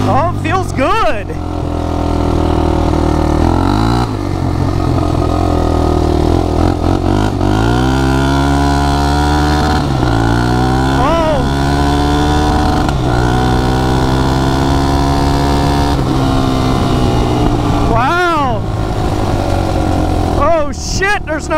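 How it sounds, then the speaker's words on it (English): A small ATV engine revs hard, repeatedly climbing in pitch and bouncing off its rev limiter, loud and close, with someone talking over it. "Wow, hit rev limiter quick."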